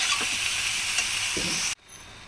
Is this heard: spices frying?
yes